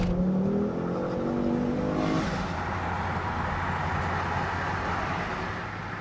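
A 2010 Ford Focus RS cruises on the highway, its engine note rising through an acceleration before settling into a steady interior drone with road and wind noise, loud and continuous without speech.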